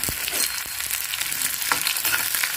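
Chopped shallots sizzle steadily in a hot pan, a continuous close frying crackle with occasional stirring scrapes and no talk.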